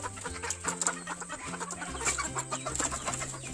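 Black Kadaknath chickens clucking nearby, a string of short repeated clucks and calls over a low farmyard background, with no talk.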